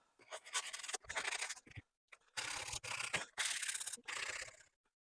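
A wooden guitar neck is sanded by hand in quick rubbing bursts, with scratchy strokes grouped into several short runs broken by brief pauses, close and quiet with no talking.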